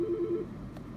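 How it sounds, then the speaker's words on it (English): Mobile phone ring tone: a short run of repeated electronic beeps in a quick even rhythm for about half a second, fairly faint in a quiet room, then fading away with no voices. "Sorry, my phone is ringing."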